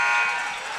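Loud sustained electronic buzzer at a high school basketball game, a single continuous tone filling the gym as the quarter ends.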